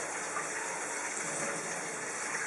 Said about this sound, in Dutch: De pasta afgegoten. Spoel ik hem maar even met koud water af